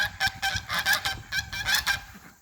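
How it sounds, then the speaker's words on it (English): Several geese honk repeatedly in a rapid, overlapping series, fairly close and loud, trailing off at the end. "Geese. No respect for somebody talking."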